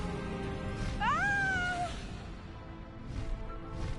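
A cat gives one clear, drawn-out rising meow close by in a Hogwarts wizard-world video game, heard over a steady background hum and ambient game music.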